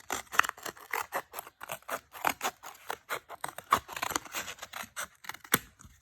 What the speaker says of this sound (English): you're going to cut it in half again widthwise